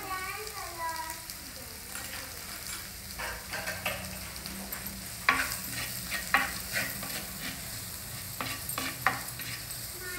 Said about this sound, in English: Mix everything well together and just allow it to cook for a couple of minutes.